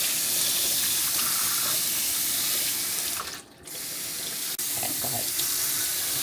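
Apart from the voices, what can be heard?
tap water running while washing fish in sink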